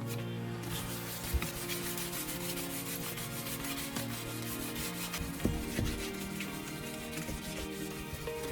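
A car headlight lens is sanded by hand with 1500 grit sandpaper and a charcoal mixture, giving a steady, soft, close rubbing and scraping with a consistent rhythm and a few light knocks.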